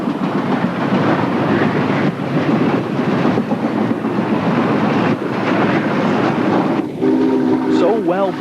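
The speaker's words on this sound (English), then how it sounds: "Returning to Roanoke, the J passes through an N&W coal yard." A Norfolk and Western class J 4-8-4 steam locomotive rolls loudly through a coal yard, a steady heavy rumble of the train that continues throughout, ending with a long blast of its whistle.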